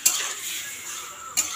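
Chicken is stir-fried in a pan during kosha cooking, with a faint sizzle and two sharp metallic scrapes of a spatula against the pan, one at the start and one near the end.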